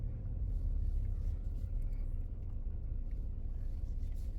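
A truck passing fast on a road, heard as a continuous low rumble of engine and tire noise that stays steady and fairly loud throughout.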